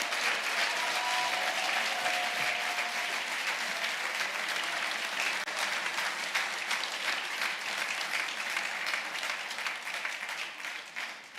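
Sustained applause from a crowd at a bank's capital markets day event, a steady, even roar of many hands clapping that fills the whole stretch and tapers slightly at the close.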